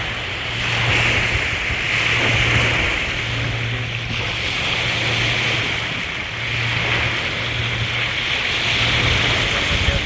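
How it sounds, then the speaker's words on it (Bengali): A steady roar of sea waves on a Kuwait shore swells and eases in slow surges with wind, while a low engine hum drones on and off underneath. No one talks. "সাগরে কি গর্জন শোনা যাইতেছে একবারে"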